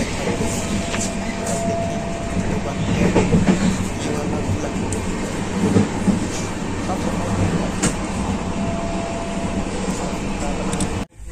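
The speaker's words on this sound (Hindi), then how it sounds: "ट्रेन अपनी स्पीड पे चल रही है" A Humsafar Express train travels from Varanasi to New Delhi, heard from inside a coach as a steady, loud rolling rumble with scattered rail clicks and clanks. It cuts off abruptly at the end.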